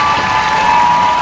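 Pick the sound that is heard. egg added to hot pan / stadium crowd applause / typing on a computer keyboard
stadium crowd applause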